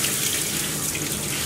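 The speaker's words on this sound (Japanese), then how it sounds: "顔から一番高いところから水をかけて流していって、泡がどんどん下に流れていくようにした方が" Shower water rinsing shampoo off a miniature schnauzer during grooming, a steady, loud hiss of spray running continuously up close.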